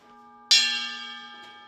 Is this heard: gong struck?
yes